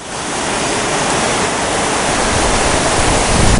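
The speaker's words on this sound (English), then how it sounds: "Well, I didn't know I'd find a little waterfall here," A small waterfall with rapids in a canyon creek, a loud, close, continuous rushing roar of falling and churning water with no voices.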